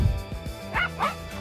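A small dog gives a few short, high yips and barks, fairly close, over a faint low rumble.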